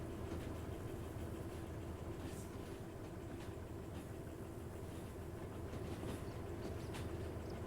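A train locomotive rolls steadily in the VR game Derail Valley, with a constant loud rumble, an engine drone and faint rhythmic clatter throughout, and no voices.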